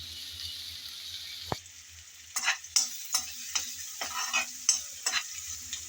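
Chopped onions fry in oil under a soft sizzle while a spatula stirs and knocks against the pan in a series of irregular scraping strokes, near and moderately loud.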